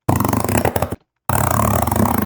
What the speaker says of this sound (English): I wanted to get that clicking texture that you might hear in a lot of the creature sound designs in modern games.